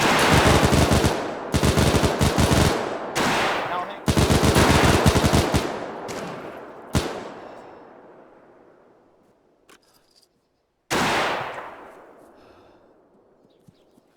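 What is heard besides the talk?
machine gun fire in the video game Arma Iron Front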